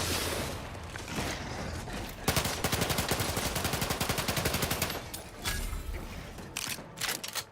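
Rapid automatic gunfire from a weapon in The Outer Worlds 2, loud and close, with dense bursts of evenly spaced shots that stop briefly and then resume in short volleys.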